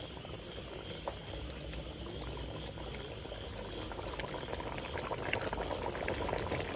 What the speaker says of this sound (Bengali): খুব সুন্দর করে কষতেছে মাটির চুলায়।